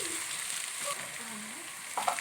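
Chopped garlic frying in a pan of oil while cooking Egyptian koshari gives a steady, close sizzle throughout, with faint stirring scrapes.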